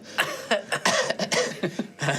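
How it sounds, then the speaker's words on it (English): A voice performs a young character's loud coughing during a tabletop fantasy roleplaying session: a close, harsh run of several rapid coughs in bursts, with no other sound behind it. "coughs quite loudly, and it's very, very audible"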